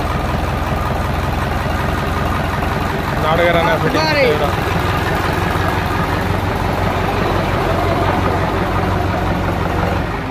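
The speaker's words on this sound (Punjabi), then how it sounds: "ਰੋਜ਼ਾ ਇੰਜਨ ਕਰਤਾ ਸਟਾਰਟ, ਅੱਜ ਨੱਬੇ HP ਜਿਹੜਾ ਧਰਿਆ ਸੀਗਾ" A 90 hp engine newly fitted to a Ford 5911 tractor idles with a steady, heavy diesel throb throughout, close and loud, while someone talks briefly over it.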